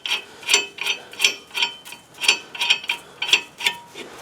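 A ratchet clicks steadily as a lug nut is threaded on to hold a new rear brake rotor on a 2006 Chevy Suburban, with a close, even series of sharp metallic ticks.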